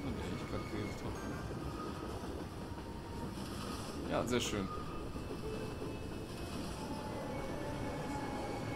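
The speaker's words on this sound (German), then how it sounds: "da ist erstmal die S-Bahn, von der ich gerade geredet habe" An S-Bahn commuter train in the city-building game Cities: Skylines rumbles past in a steady, dense roar that swells briefly midway, while someone speaks a few words over it.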